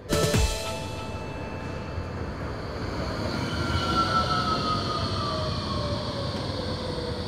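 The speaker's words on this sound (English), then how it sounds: "The trams have rarely been out of the news, finally opening 8 months late, but now they're up and running." A tram runs through Nottingham: a low rolling rumble of wheels on rail with a sharp knock at the start, then thin metallic squeals rising and sliding as it passes nearby, with no talk.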